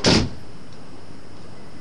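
A single solid thud as the door of an MGB car is shut, loud and close, followed by quiet background hum.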